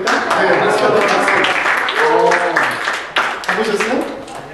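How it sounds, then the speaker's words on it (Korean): Audience clapping at a Korean church autumn retreat, a burst of applause mixed with voices and cheering from the crowd. "박수 쳐야 됩니까? 네, 박수 쳐야 박수."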